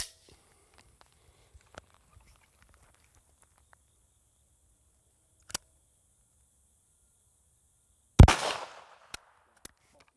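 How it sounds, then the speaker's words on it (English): A SIG MPX submachine gun fires military 9mm ball ammunition into the face of a red brick outdoors, mostly one sharp loud shot late on, with a few faint clicks and a small crack around it in otherwise quiet surroundings. "with the SIG MPX and some military 9mm ball ammunition, shooting the face of the red brick"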